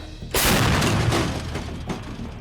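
A single heavy artillery gun blast booms out suddenly at a front-line position near Kherson, followed by a rolling rumble that fades over about two seconds, with a faint second thump near the end.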